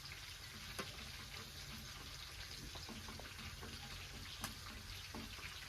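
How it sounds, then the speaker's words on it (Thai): Mackerel fries in hot oil, giving a faint, even sizzle with scattered small pops and spatters throughout. "ทอดปลาทูแล้ว"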